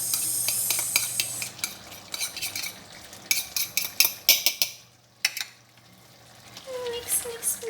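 A spoon stirs and scrapes through chicken afritada with melting cheese in a pan. The clatter comes in bursts with short pauses between them, over a soft sizzle, and briefly drops to near quiet in the middle.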